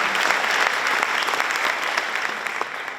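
A school audience applauds a staff member at a school centennial faculty celebration, with loud, sustained clapping that fills the room evenly for a few seconds and no speech over it.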